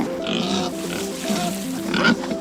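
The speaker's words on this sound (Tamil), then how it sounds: "இது காட்டு பன்றி" Cartoon wild boar with big tusks grunting in a muddy jungle scene, a run of loud, close pig-like grunts and snorts over about two and a half seconds, with a cartoon music bed underneath.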